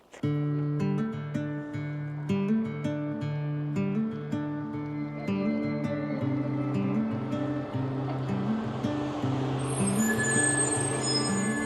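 A shuttle bus with air brakes in southern Utah near Bryce Canyon's Sunset Point: a loud, steady engine drone with shifting tones runs throughout, building to a hiss of air near the end, with no talking.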